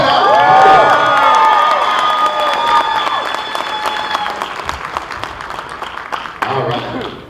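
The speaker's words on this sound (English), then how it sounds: "All right, one more round of applause" A crowd of fans applauds and cheers loudly for horror actor Kane Hodder at a convention Q&A, with whoops and shouts over steady clapping that gradually thins toward the end.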